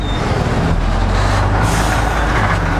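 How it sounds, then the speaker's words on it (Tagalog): A large truck rolls past on a road near Lagundi, its heavy diesel rumble loud and close throughout, with a hiss like an air brake partway through and no one talking. "Laki ng truck."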